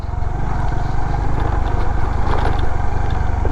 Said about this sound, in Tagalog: Alright, tong motor natin dito ah.